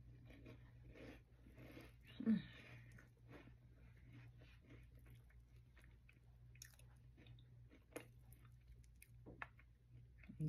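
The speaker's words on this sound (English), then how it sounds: "If y'all listen to my chew, that can be your ASMR for today" Cheeseballs are chewed close up, with soft crunchy bites and moist mastication repeating quietly in an irregular rhythm.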